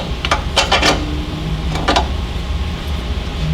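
A steel through bolt slides into a Mazda Miata's extended lower ball joint, giving several short metallic scrapes and clicks close by, in a cluster early on and another shortly after, over a low garage hum.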